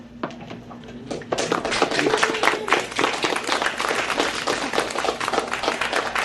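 Audience applause at a poetry open mic in Austin, a dense burst of many hands clapping that starts sparse, swells quickly and holds steady and close.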